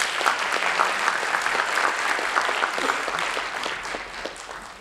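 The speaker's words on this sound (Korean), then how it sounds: "여러분 다시 한번 큰 박수 부탁드리겠습니다" Audience applause at a fitness-industry award ceremony as a plaque is presented, a dense, steady wash of many hands clapping that stays loud throughout before easing slightly at the end.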